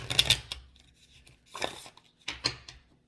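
A few brisk, papery riffles of a tarot deck being shuffled close up, with short pauses between them. No voices.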